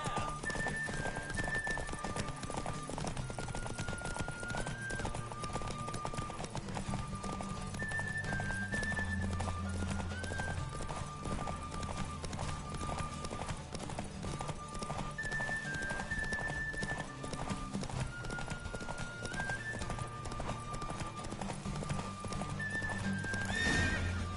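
Hooves clip-clop in a fast steady gallop during a horse race in The Witcher 3, with occasional whinnies, all under continuous game music.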